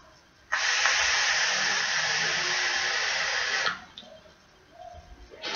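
A long, loud breathy hiss of exhaled e-cigarette vapour from an e-liquid, steady for about three seconds and then stopping abruptly, followed by quieter background sounds.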